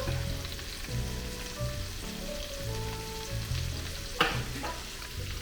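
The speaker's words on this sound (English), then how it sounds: "and a little pepper, and we stir." Cabbage seasoned with garlic powder and salt sizzles steadily in a pan, with scraping stir strokes recurring every second or so and a sharper clatter near the end, no voices.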